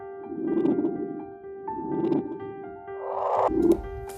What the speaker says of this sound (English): This is the sound of the universe.